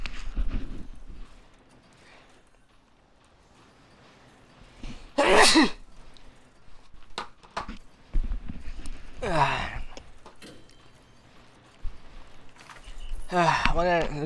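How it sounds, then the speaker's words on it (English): Several loud, close sneezes burst into a microphone in sharp spaced blasts amid quiet background noise and occasional talking. "it's not polite to sneeze in the microphone."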